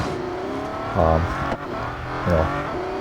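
A Bugatti Chiron's engine in the racing game Real Racing 3 drones steadily, with two louder rising revs or gear-change surges partway through, close and continuous with no talking.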